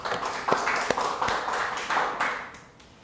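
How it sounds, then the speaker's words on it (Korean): A church congregation at a Wednesday evening service gives a short burst of applause, with claps rising and then fading out over a few seconds. "하나님께 영광의 박수를."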